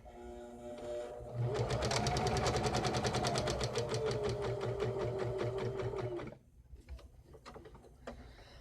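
A sewing machine stitches a fabric face mask seam with a backstitch, running in a fast steady loud whir for about five seconds, then stopping with softer handling clicks afterward.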